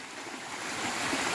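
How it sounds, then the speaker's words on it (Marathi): Rain-swollen stream water flowing in rainy season countryside in Ratnagiri, Konkan, a steady broadband rush close by with no voices. "हे सुंदर झरे"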